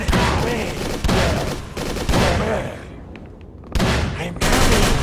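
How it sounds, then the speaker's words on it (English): Machine gun fire in the Call of Cthulhu video game comes in loud, close bursts of rapid shots, with a short lull in the middle before the firing resumes. "Oh, he's got a machine gun."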